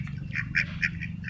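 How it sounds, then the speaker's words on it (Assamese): Ducks quack in a quick series of five or six nasal calls at Borpukhuri pond in Sivasagar on a morning walk, close and clear over a faint low background hum. "হাঁহবোৰ চৰি থাকে"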